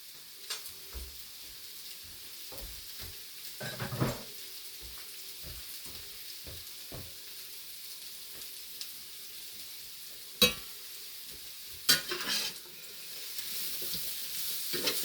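Onions are stirred in a frying pan while making biscuits and gravy, with soft scattered spatula scrapes and knocks over a faint low sizzle, quiet and close, with a few louder clanks near the end.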